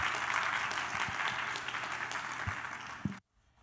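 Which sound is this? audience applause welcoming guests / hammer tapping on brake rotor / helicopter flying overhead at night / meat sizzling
audience applause welcoming guests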